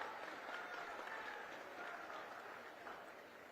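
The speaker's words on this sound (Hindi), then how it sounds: "जोरदार धर्म भैया के लिए ताली भैया।" Applause from a crowd at an outdoor political rally in Chhattisgarh, a broad, steady wash of clapping heard from some distance and fairly quiet, continuing for a few seconds.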